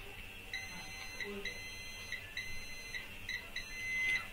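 A meter beeps in short, repeated electronic bursts while probing a capacitor on a circuit board during a dead-board short diagnosis, with several evenly spaced beeps and one longer tone near the end, quiet and close.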